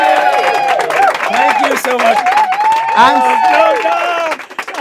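Studio audience applause and cheering for a dancer's jacket on a live dance show, a loud sustained crowd roar with clapping, while a host speaks over it throughout.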